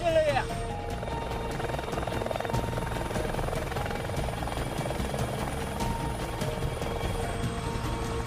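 A helicopter in flight, its rotor producing a steady, loud thudding drone with a whining engine tone over it, continuous throughout with a brief voice at the start.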